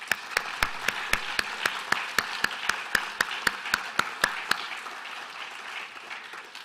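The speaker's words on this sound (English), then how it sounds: "let's give a round of applause for them" An audience at a nuclear energy lecture applauds with sharp, regular claps standing out above a broad wash of clapping, which fades gradually in the last couple of seconds.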